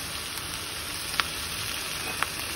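Finely chopped tomatoes sizzling in hot oil, a steady close hiss and crackle with a couple of sharp pops, no voices.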